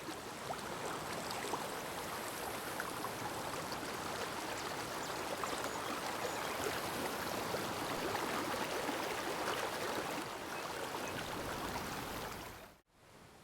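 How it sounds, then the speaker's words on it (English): River water rushes over rocks in the video game Nightingale. It is a steady, dense, hissing flow of splashes that holds for about twelve seconds, then cuts off abruptly. "the VFX team also added water splashes on rocks along the river"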